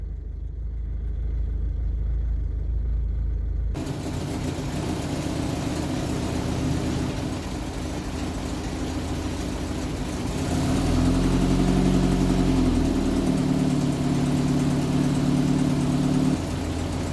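A car engine started with the choke pulled out settles into a steady idle after a low rumble, then the revs rise and hold at a higher pitch for several seconds before dropping back, close and continuous.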